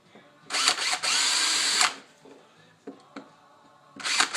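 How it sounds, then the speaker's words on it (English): Power drill boring a couple of holes in a crouching-man Halloween prop, a long loud whir of about a second and a half after a short burst, then faint handling noises and another burst starting at the end. "First thing we're going to do is we're just going to drill a couple of holes"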